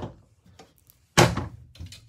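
Cabinet drawers in a 2021 Fleetwood Bounder 35K motorhome slide out. Faint clicks come first, then one loud sliding thunk and a softer rattle, close by with no speech.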